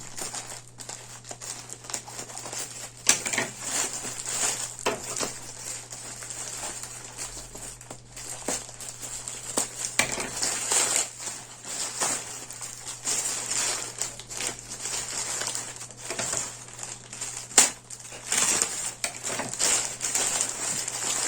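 A plastic parcel bag is unwrapped, its packaging crinkling and rustling steadily for about twenty seconds, with occasional sharper crackles, close by and fairly quiet, with no talking.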